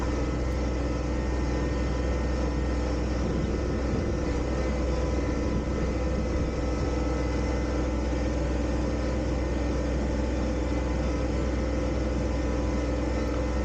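John Deere 1025R compact tractor pushing a 72-inch snow plow over gravel, a steady, loud engine drone with a low rumble that holds evenly throughout, no voices.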